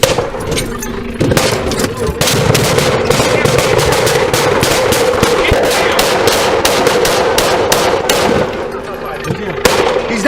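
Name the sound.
gunfire during NYPD shootout with armed suspect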